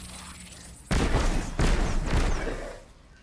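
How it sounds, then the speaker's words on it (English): Loud, close explosions and bursts of gunfire from a grenade and weapons in the Destiny 2 video game, in two or three sharp heavy hits about a second apart that fade out at the end. "LB to toss a grenade"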